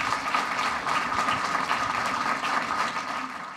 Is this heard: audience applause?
yes